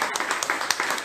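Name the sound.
applause for God in church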